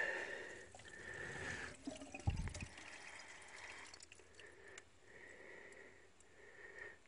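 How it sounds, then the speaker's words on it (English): Water trickles and splashes softly into a Davey pump as it is filled, with a brief louder gurgle partway through and a low steady background hum. "so then I can fill it full of water"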